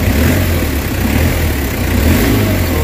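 A Nissan Vanette engine, recently fixed for low power and throttle delay, runs and revs close by with a steady, loud mid-to-low drone and a faint rise in pitch, heard alone without talk.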